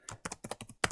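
Typing an order name on a computer keyboard, a quick close run of about eight crisp key taps in uneven rhythm, the last one louder.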